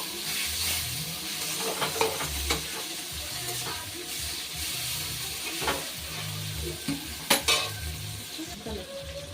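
Onions sizzle steadily in hot oil while a utensil stirs and scrapes the pan in irregular strokes, cooked for a fish-fat fry.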